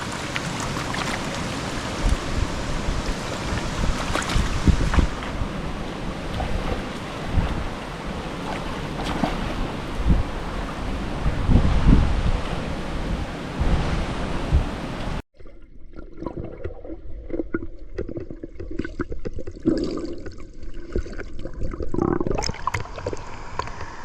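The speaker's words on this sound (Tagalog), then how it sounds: "Kasi malakas yung agos ngayon eh." The strong current of the Kalong River rushes past in a loud, steady wash mixed with wind buffeting the microphone, followed after a sharp cut by a quieter, more distant flow of water.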